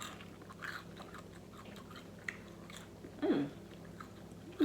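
During a mukbang, someone eats a collard-green-wrapped cheeseburger and fries, with soft close-up chewing and bites, one crisp crunch standing out, over a quiet room background.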